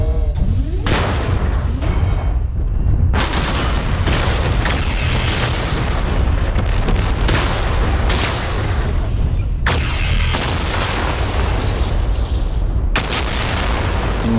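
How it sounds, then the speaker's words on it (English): A tactical nuke goes off in a video game as a huge sustained boom, a long, loud, rumbling roar that carries on for many seconds, with sharper crackling blasts layered on top. "Nuke ready. Tactical nuke."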